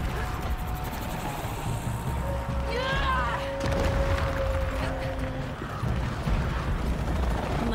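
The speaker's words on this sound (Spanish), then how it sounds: "Más helicópteros." Helicopters in the video game Shadow of the Tomb Raider, a steady mechanical rotor drone with chattering and whirring over a rumbling background, joined by faint sweeping effects and a sustained tone.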